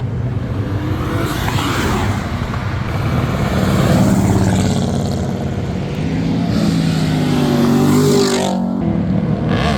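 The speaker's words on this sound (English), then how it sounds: "Why drive a Camaro if you're not gonna drive the Camaro? This guy's launching, yeah!" A Chevrolet Camaro launches hard at a weekly car meet, its loud engine roaring steadily close by for the whole stretch amid outdoor crowd noise, the tone rising and shifting as it pulls away.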